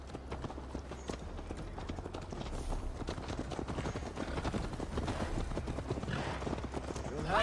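Horse hoofbeats clip-clop in a steady, continuous rhythm as a rider travels on horseback in Assassin's Creed Valhalla, moderately close under an ambient game backdrop, with a voice speaking over part of it.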